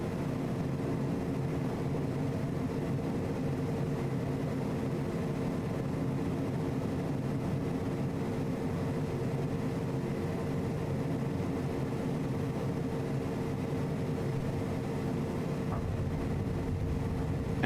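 Steady low jet engine hum from a Cessna Citation CJ4 business jet settling at idle thrust in Microsoft Flight Simulator 2020, a constant broadband drone with no talk.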